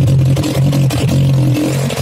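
A prepared engine's exhaust revving loudly up close, a harsh, droning, rumbling roar with brief dips and surges over a couple of seconds, heard alone.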